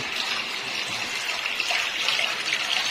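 Water runs steadily from a tap, a continuous close hiss and gush with no breaks and no voices.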